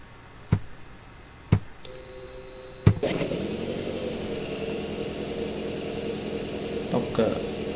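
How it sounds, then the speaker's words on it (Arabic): A car with a faulty ignition coil: several sharp clicks, then the engine starts and settles into a steady idle with a rough, shaking running note, close and continuous. "طوموبيل ديمارات فعلا الموتور كيفيبري كيترعد"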